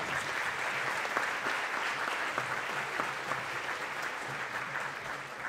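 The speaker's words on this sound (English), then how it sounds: "Please give Miss Hawley a round of applause" Steady applause from an audience at a school concert, dense clapping sustained evenly throughout with no voices rising above it.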